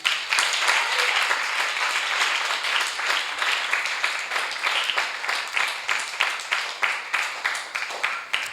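A church congregation applauding, dense steady clapping from a crowd that grows into more rhythmic, accented claps toward the end, loud and reverberant with a few voices mixed in.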